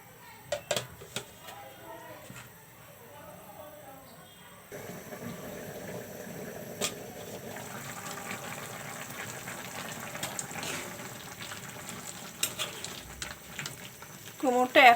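Sweet pumpkin curry simmers in a covered pot, a faint, steady bubbling and hiss that grows a little fuller after a soft clatter partway through.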